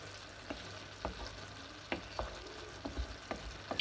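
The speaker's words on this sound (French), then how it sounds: "Et on va laisser cuire. Voilà, on remue de temps en temps," Minced meat sizzles softly in a pan, a faint steady fry broken by occasional scraping knocks of stirring, with no talk.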